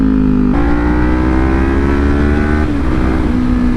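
A Yamaha R6 600cc sport bike cruises on a highway, its high-revving engine droning loud and close under wind roar, the pitch stepping up after a gear change and then easing slightly.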